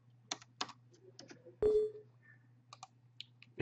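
Typing on a Windows 7/8 computer keyboard, a handful of light, scattered key clicks with one louder keystroke in the middle, close-miked over a low hum, no talk.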